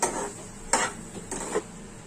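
A spoon scraping and knocking against a pan as cooked prawns are stirred for prawn masala, three distinct metallic scrapes spaced about half a second apart, quiet and close with no talking.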